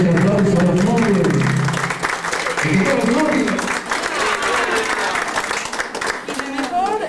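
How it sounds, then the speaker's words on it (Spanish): Loud applause for newlyweds at a civil wedding ceremony, with voices and cheers over the clapping at first before it settles into steady, close clapping from a small gathering. "vamos a darle un fuerte aplauso a los novios"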